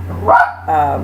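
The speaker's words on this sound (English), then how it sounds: "Excuse my dog. He is a Chihuahua" A Chihuahua barks twice in quick succession, the yaps close and fairly loud over a steady low hum, with no talking.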